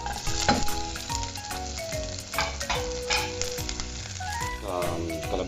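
Onions sauté in a hot pan with bright crackling sizzle, punctuated by scraping stir strokes and the knock of utensils on the pan, with no talking.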